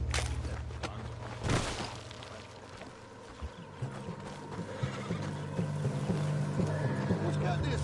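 A horse whinnies amid video game ambience on PS4, with hoof clops and a steady low drone beneath.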